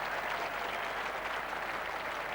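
Cricket crowd applauding at the Oval during an England v Pakistan Test as England reach 200, a steady, even patter of clapping throughout, moderately distant with no voices on top.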